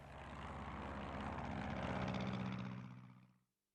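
An early airplane from Houdini's pioneering first flight in Australia drones steadily with a broad engine-and-propeller roar, holding loud and even for about three seconds before cutting off abruptly into silence.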